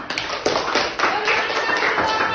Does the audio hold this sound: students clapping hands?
yes